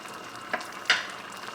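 A fork scrapes and clinks twice against a pot while olive oil, lime juice and cilantro are stirred into soup, two short, fairly close taps over a low, steady background hiss.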